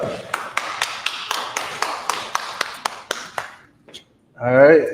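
A class claps hands in a steady rhythm, about a dozen sharp, evenly spaced claps that then stop, followed by a voice speaking.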